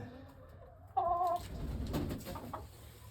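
A hen gives a short low cluck, followed by soft murmuring clucks and rustling nearby, calm and quiet.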